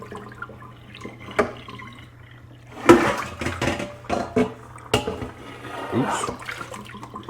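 Water sloshes and splashes in irregular bursts as the soaking water over catfish fillets is changed, with drips and pours of moderate loudness close by and no talk.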